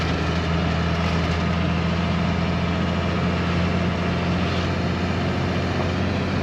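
A Squarebody pickup truck's engine drones steadily and loudly from inside the cab on a test drive, a constant low rumble with no pauses.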